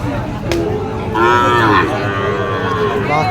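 A Sahiwal bull moos loudly and close by at a cattle market, a long drawn-out low call with a second shorter moo near the end.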